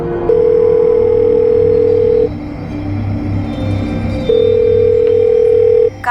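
A telephone call tone sounds loud and steady, a long sustained beep that stops, then returns after a pause with a low hum in between.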